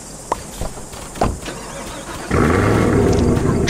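A few light taps and thumps give way to a Roblox car engine starting up, then a steady, buzzy motor drone with a higher whine on top.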